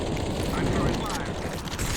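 An incendiary grenade burning in a Counter-Strike 2 match on Overpass: a dense, steady roaring whoosh of flames that stays loud and constant throughout.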